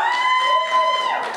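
Audience at an indigenous economics talk clapping and yelling, a short lively burst of cheers and applause at moderate loudness.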